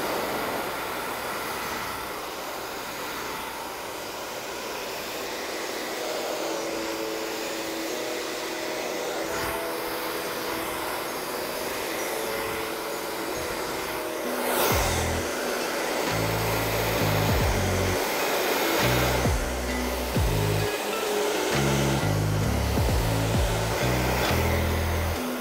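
A handheld blow dryer runs steadily while drying hair at a salon hair-styling masterclass, a continuous whooshing motor hum that grows louder and more forceful partway through, with brief shifts as it is moved around.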